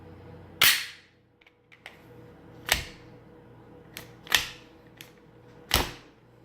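Magazine insertion tests on an unloaded Glock 19 pistol produce several sharp, separate metallic clacks and snaps spaced a second or so apart, close and crisp against quiet, with small fumbling clicks between them.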